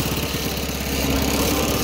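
A Predator 212 small engine fitted to an Allis-Chalmers WD tractor runs steadily near the microphone, a loud rapid chugging drone with no speech over it.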